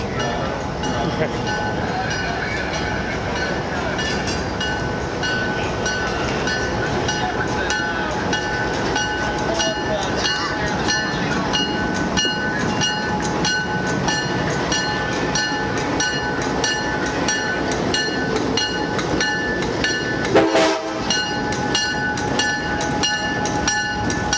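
An FL9 locomotive train rumbles past steadily with rolling rail noise, a sustained horn tone threading through it and a brief sharp clank near the end.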